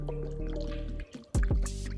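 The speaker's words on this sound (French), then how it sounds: "Écoutez le bruit des bulles." Liquid gurgles and bubbles in short bursts as a Derbi scooter's coolant system is refilled after a thermostat change, with a brief lull before a couple of louder glugging pops, under a steady low hum.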